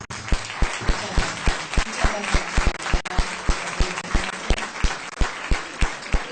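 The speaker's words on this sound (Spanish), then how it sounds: "Vamos a dar un aplauso al profesor" An audience at a criminology and psychoanalysis congress applauds a professor, with dense, steady clapping and sharp, evenly spaced individual claps standing out through the whole stretch.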